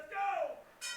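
A wrestling ring bell is struck to open a match at a live event, giving a single bright ring that decays, then a second strike near the end of the clip.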